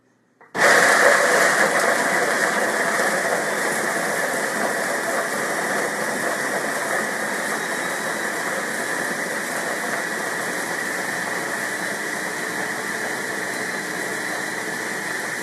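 A blender churns a thick lemon coconut cream pie mixture, starting abruptly and holding a loud, steady, close whir for the rest of the clip.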